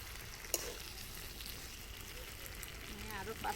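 Mutton and fried potatoes stirred together in a pan, giving a steady close sizzle and fry hiss with light scraping, and one sharp clink early on.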